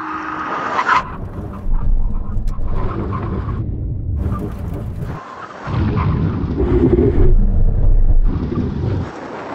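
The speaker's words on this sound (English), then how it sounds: "Now we're going to have a brake test from 70 miles an hour." Emergency stop from 70 mph in a brake test between a Ferrari and a Porsche: bursts of rushing car and tyre noise rise and cut off repeatedly, heavy wind buffeting throughout, no talking.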